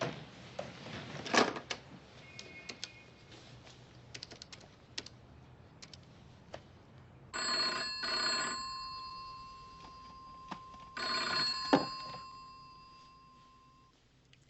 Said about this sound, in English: The phone only rang once.